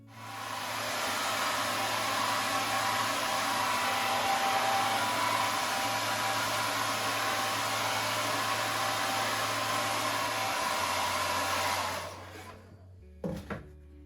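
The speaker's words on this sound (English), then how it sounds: "Using a hairdryer there to dry the paint a little bit quicker than I would normally do" A hair dryer, used to dry paint, blows loudly and steadily with a constant low hum, running for about twelve seconds before switching off, followed by a couple of faint clicks.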